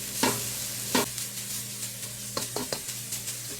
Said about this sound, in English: I mean, this is stir frying.